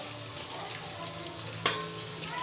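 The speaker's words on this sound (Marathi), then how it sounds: "एक टोपामध्ये तेल गरम केलं त्याच्यामध्ये आलं लसूणची पेस्ट टाकलेली आहे आणि ती आता" Ginger garlic paste sautéing in hot oil in a pot for chicken biryani, a steady close sizzle with one sharp utensil clink near the end.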